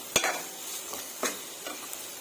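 Tomato masala with fennel seeds frying in a pan for a liver fry, a soft steady sizzle broken by a few sharp scraping stirs of a spoon against the pan, fairly quiet and close, with no talking.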